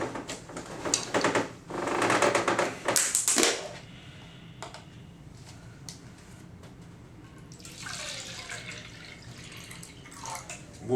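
Water is poured into a facial steam machine in two separate bursts, a louder splashing stretch early on and a softer pour near the end, with a quiet pause between them.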